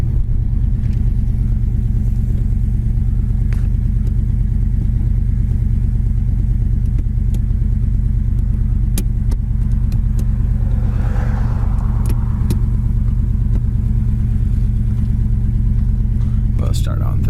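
A 1969 Ford Cobra R-code 428 four-barrel V8 roars steadily with a deep, loud rumble as the car accelerates through the gears on a road, with occasional clicks and a brief shift break near the middle.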